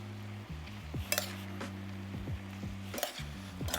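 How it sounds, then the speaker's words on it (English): Spicy tilapia and vegetable orzo being stirred in a pan, with quiet scrapes and a few light clinks of a utensil against the pan over a steady low kitchen hum. "Now I'm going to give this a stir and just let it start absorbing."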